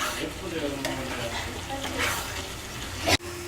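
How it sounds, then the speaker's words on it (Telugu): Carrot halwa stirred with ghee in a pan, a continuous scraping and stirring under a soft, steady sizzle, with one sharp knock of the spoon near the end. "ఒకసారి మొత్తాన్ని కలుపుకుందాము ఈ నెయ్యి బాగా అంతా స్ప్రెడ్ అయ్యేలాగా"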